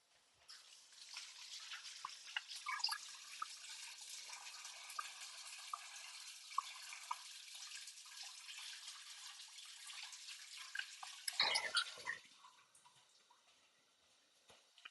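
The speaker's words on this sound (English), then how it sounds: "I'm just going to give my sweet potato a little shave and a wash." A kitchen tap runs steadily over a sweet potato as it is washed, a continuous soft hiss and patter of water lasting several seconds, with a brief louder splash near the end and no talk.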